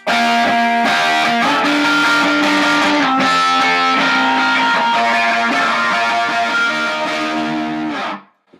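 Distorted electric guitar through a Timmy overdrive pedal playing sustained, crunchy chords and riffs, loud and full, ringing out before cutting off at the end.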